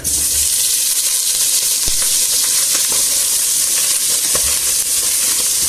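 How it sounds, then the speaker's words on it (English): Pork sizzles loudly in a pan over full heat, giving a dense, constant hiss and crackle with small pops, close up and unbroken, with no voices. "And I'll fry it until it's browned all round."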